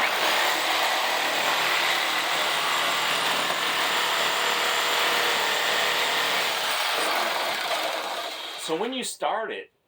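A sawzall reciprocating saw fitted with an 8-inch blade cuts into wood, a steady loud buzzing rasp running continuously for about nine seconds before winding down and stopping, heard close up.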